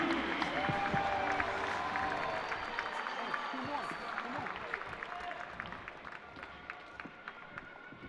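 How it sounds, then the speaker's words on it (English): Husker fans in a wrestling arena cheer and applaud after James Green's 6-0 win, a busy crowd roar with scattered claps and shouts that slowly thins over several seconds, with voices mixed through it. "we'll hear the Husker faithful cheering him on"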